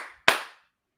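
A single sharp hand clap rings out alone, sudden and loud, then decays quickly into silence.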